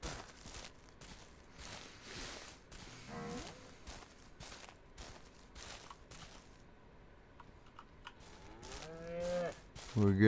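Cows in the Ranch Simulator video game moo several times, with drawn-out lowing calls scattered among soft clip-clop footsteps and clicks, growing louder near the end.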